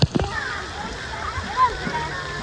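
Continuous splashing and sloshing water from play hoses at a water park splash area, close by, with a couple of sharp splats at the start and faint voices underneath.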